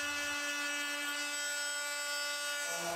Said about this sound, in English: Then I swapped to a 180 grit pad and polished up the brass to get it nice and shiny.